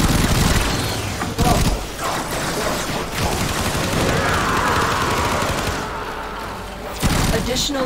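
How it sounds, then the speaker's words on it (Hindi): Rapid bursts of gunfire from the video game Warframe during an endless fissure survival mission, dense automatic shots with mechanical clatter, loud and sustained across the whole stretch. "गोलियां देखना कैसे प्यारी प्यारी निकलती है"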